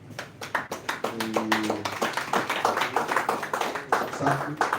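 During a youth stakeholders meeting, scattered hand clapping starts sparse and builds into a loose, uneven patter, with voices speaking underneath.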